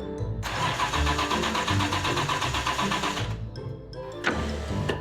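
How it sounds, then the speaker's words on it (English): An Aston Martin DB6 engine starts and runs with a loud, rhythmic mechanical rumble as the car moves out of a showroom, cutting off briefly before firing again near the end. "Another opportunity to hear the purr of the DB6 engine as it glides effortlessly"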